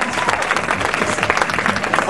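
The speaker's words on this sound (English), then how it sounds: "Please give her a nice big round of applause." Loud, close audience applause for a grand prize winner at a raffle drawing, a brief dense burst of many hands clapping with audible individual claps and some crowd noise mixed in.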